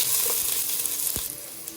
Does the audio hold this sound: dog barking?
no